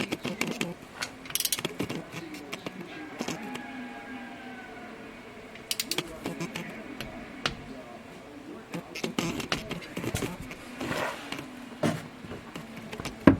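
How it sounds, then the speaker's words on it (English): Ratcheting torque wrench tightening the oil drain plug on a 2017 Polaris Ranger XP 900 during servicing, a run of quick close clicks and metallic mechanism noises in bursts, with some faint background clatter. "we'll go ahead and put the drain plug back in, and this gets torqued to 12 foot-pounds"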